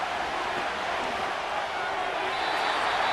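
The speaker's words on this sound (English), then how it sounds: "the crowd here at MetLife Stadium in full roar" Steady stadium crowd roar at MetLife Stadium during a Madden NFL 25 Jaguars vs. Giants game, a dense, even wash of noise holding for the full stretch with no breaks.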